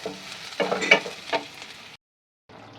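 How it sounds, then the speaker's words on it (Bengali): Onions fry in a pan with dried red chillies and bay leaves, a soft sizzle with a few clatters of stirring, then a brief silence before the sizzle returns faintly. "তারপরে পেঁয়াজগুলোকে একটু ভাজা ভাজা করে নিই"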